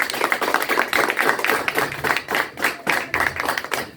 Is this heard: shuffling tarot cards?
no